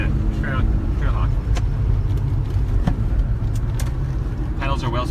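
A classic Mazda RX-7 sports car is driven around a lap, its engine humming steadily from inside the cabin under ongoing conversation, with a few sharp clicks and knocks.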